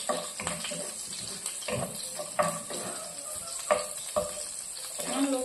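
Corned beef and eggs frying in a pan for lunch, a steady close sizzle with bursts of crackle and scraping stirs, no voices.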